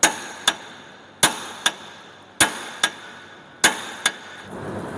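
Sharp metallic hammer strikes on a special driver tool, pressing a lower control arm ball joint into a Toyota Hilux Vigo, land in pairs, a hard blow followed by a lighter tap, repeated four times at a steady pace, close and loud.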